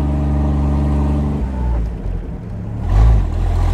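The engine of a 1934 Lagonda M45 T7 Tourer, a pre-war vintage touring car, idles with a deep, loud rumble close by, then revs up briefly and settles back.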